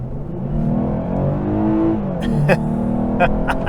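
A 2023 Lexus RC 350 F Sport engine revs and rises in pitch as it accelerates, with a few sharp clicks and ticks near the end, fairly close.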